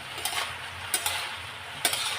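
Vegetables seasoned with salt and turmeric fry in a hot pan, a steady close sizzle broken by a few sharp scrapes and clinks of a spatula against the pan.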